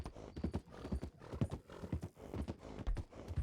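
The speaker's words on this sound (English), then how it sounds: "I can hear a horse again." Horse hooves clip-clopping in the western roleplay game WildRP, a quick irregular run of hoofbeats on hard ground, fairly close and moderately quiet, with no talking.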